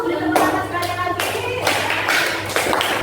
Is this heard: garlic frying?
no